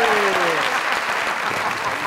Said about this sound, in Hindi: भाभी के लिए तालियां